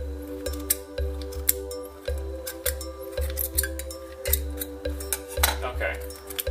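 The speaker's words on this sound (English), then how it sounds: "And then I'm going to take my scissors and cut" Scissors snipping around a thin aluminum can, a run of short sharp metallic cuts and clicks close by, coming in quick irregular bursts over a steady low hum.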